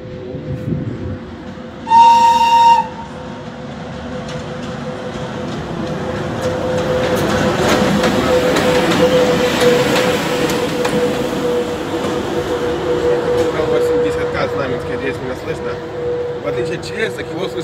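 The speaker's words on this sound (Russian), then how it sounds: "вот там вдалеке и товарняк, и он приближается, и вот этот гул" A freight train approaches from the distance along a railway near a station, its low rumbling hum building gradually and staying loud; a brief whistle-like tone sounds near the start.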